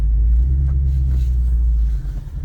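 Ford GT350 engine idling with revs rising on their own, rolling along with no gas pedal input; a steady loud low rumble throughout, easing slightly near the end.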